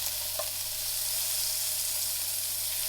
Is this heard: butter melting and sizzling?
yes